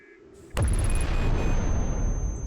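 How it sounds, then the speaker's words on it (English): A spaceship exploding in the video game Outer Wilds, a sudden sharp blast that turns into a sustained roaring rumble with faint high beeping tones over it, loud and alone. "Did our ship just explode?"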